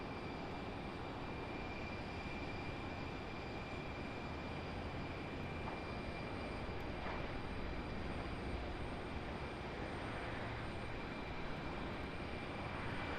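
A Southwest airliner at Raleigh Durham airport gives a steady, broad engine roar that holds at an even level for the whole stretch, with no talk over it.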